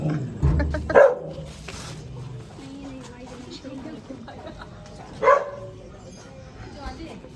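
A dog barks in two sharp bursts, one near the start and another later, with quieter yips between, over a muffled room background with faint voices.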